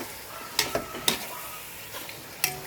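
Ingredients for chicken tinola stirred in a hot pan, with soft sizzling and several sharp scraping strokes of a spoon spaced out over a quiet background.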